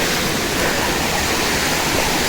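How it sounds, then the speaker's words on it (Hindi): Rushing water from a river at a waterfall, a loud, dense, steady roar of broadband noise that fills the whole stretch with no breaks and no talking. "सो पानी की आवाज़ अभी सुनाई दे रहा है।"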